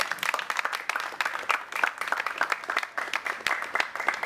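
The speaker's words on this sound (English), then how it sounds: "So they deserve a round of applause as well." Dense audience applause after thanks at an evening event for a medical mission to Jamaica, many hands clapping steadily and evenly at moderate distance, with no voices over it.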